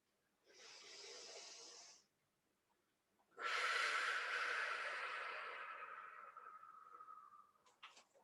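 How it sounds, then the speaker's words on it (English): Loud, deliberate breathing during a thoracic mobility exercise: a roughly one-and-a-half-second airy inhale, a short pause, then a longer exhale of about five seconds that fades gradually, close and unaccompanied by talk. "Nice loud inhale and exhale."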